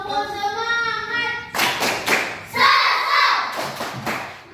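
A school class claps in a rhythmic spirit-clapping chant, sharp group claps and thumps in short bursts after a sung or called lead-in, with children's voices mixed in.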